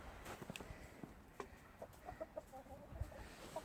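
Orpington, Americana and black Jersey Giant hens cluck softly in scattered short calls on a winter chicken farm, faint and close, with light rustling between the calls.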